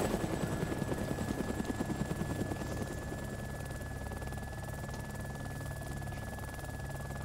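A Huey helicopter in a video game flies over woods, its rotor thumping rhythmically and loud at first, then fading into a steady engine drone as it passes.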